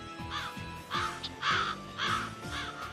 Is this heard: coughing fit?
no